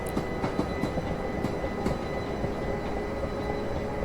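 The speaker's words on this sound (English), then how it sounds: "I have the train simulator playing through my speakers" A class 375 train runs on the Medway Valley line in Train Simulator Classic, with a steady rumble of wheels and a quick rhythmic clickety-clack over the rails, played through speakers with no talking.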